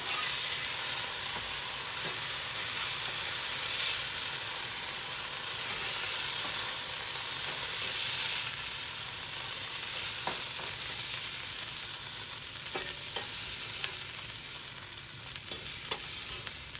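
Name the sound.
scallops pan searing in a pan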